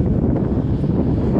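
Loud, low wind buffets the microphone in a continuous rumbling roar in a nearly empty college football stadium, with no voices present.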